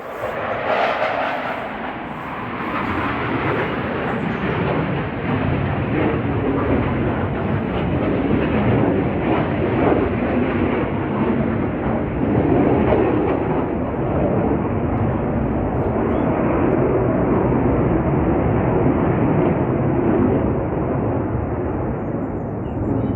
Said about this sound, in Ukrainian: військові літаки тут літають